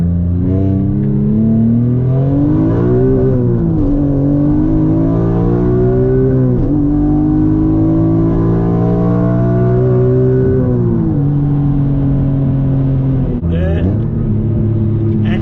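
A Nissan Maxima's VQ35DE V6, with its rev limiter raised past 8000 rpm, pulls hard in first gear and on up through the gears on a highway. Loud engine note climbs steadily, dips at each shift, then climbs again, heard from inside the car.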